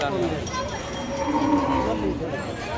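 Cattle at a busy cattle market in Dhaka's Dholaikhal, with a low moo rising out of dense crowd noise and background chatter over a short stretch.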